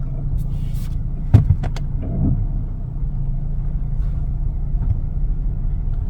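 Hyundai Tucson SUV driving slowly, a steady low engine and road rumble from inside the cabin with a couple of brief clicks and a soft thump early on, no speech.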